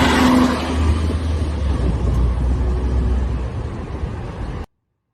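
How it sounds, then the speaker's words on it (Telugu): City bus in Chicago pulls in to a stop, its engine rumbling loudly and close with a diesel drone and street noise, then cutting off abruptly. "అక్కడ బస్సు వస్తుంది చూడండి"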